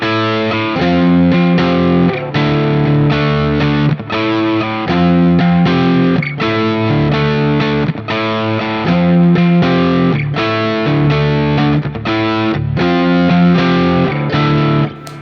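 A distorted electric guitar plays a melody over moving bass notes, chords ringing continuously at a steady pace, loud with no voices.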